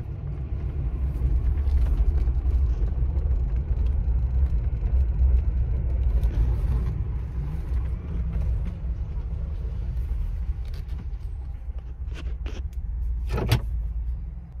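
A Ford Bronco engine sputtering and struggling as it runs out of gas, a steady low rumble heard from inside the vehicle with faint clicks and rattles near the end, no talk.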